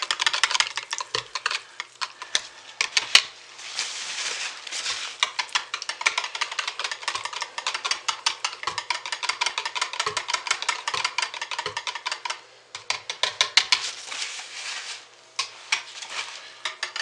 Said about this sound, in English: So let's go ahead and stir these colors in by hand.